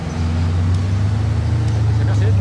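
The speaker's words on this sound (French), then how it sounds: "j'entendais un bruit, je me disais tiens ça sonne fort. Là il y a une Bugatti Chiron les amis" A Bugatti Chiron passes with a loud, deep, steady engine rumble on a busy street, close by and sustained for a couple of seconds, while people talk over it.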